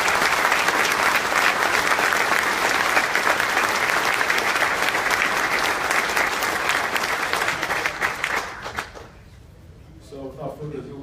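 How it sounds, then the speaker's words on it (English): A large audience at a St. Paul Police awards ceremony applauds loudly and continuously for about nine seconds, then the clapping fades and a voice begins speaking. "Let's give them a round of applause."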